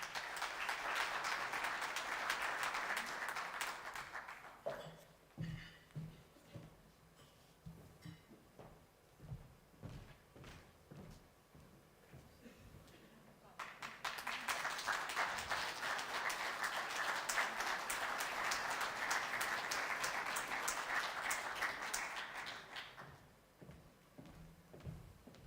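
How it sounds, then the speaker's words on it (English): Audience applause at a Western Balkans ministerial conference award ceremony on public administration reform: a sustained burst of clapping, a quieter stretch with scattered noises, then a second long round of applause that fades out. "A round of applause, please."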